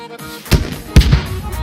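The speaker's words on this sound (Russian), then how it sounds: "с РПГ выстрел был справа" Two heavy RPG shots in a video game about half a second apart, each a sharp booming thump with a rumbling tail, over a steady low background.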